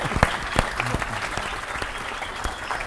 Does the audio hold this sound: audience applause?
yes